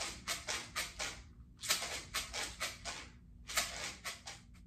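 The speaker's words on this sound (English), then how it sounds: "I am going to play this jar of pepper for the python snake." A jar of pepper shaken as a percussion instrument gives three bursts of quick gritty rattling, each a run of about five rapid shakes with short pauses between, close but soft, with no talking.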